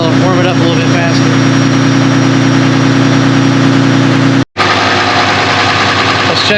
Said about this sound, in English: We got her at a high idle, warm it up a little bit faster.